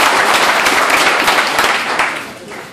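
An audience at a Harley-Davidson dealership tour card drawing claps loudly for a Street Glide motorcycle, a dense burst of applause that tapers off near the end while voices murmur underneath.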